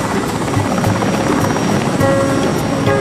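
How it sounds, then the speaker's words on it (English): A helicopter lifts off from Santa Ana, its rotor chopping loudly and steadily at close range. "Just after 9 a.m., the helicopter lifts off from Santa Ana."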